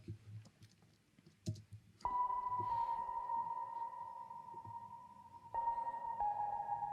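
A synth pad answering in a call-and-response figure within a worship chorus arrangement, entering suddenly as a sustained tonal layer that holds steady, briefly drops, then returns with a renewed swell over faint background clicks.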